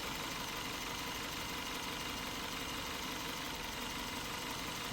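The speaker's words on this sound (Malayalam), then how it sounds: "മൊത്തത്തിൽ എഞ്ചിനൊന്ന് വൈബ്രേറ്റ് ചെയ്യുന്നുണ്ട്" A Suzuki Jimny engine converted to CNG with a Lovato kit idles steadily with a low, rumbling vibration, continuous and fairly close, with no voices.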